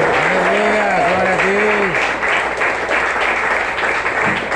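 Church congregation clapping during a Brazilian Portuguese healing and deliverance service, a dense continuous roar of hands at close range, with a voice singing or calling out briefly over the start.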